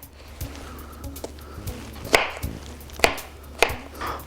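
A knife chops food into chunks on a cutting board with sharp, close knocks at irregular intervals, a few louder strikes standing out over a low background hum, and no talking.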